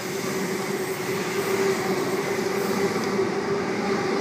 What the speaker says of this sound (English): We have a Tangara arriving, front half XG set T105.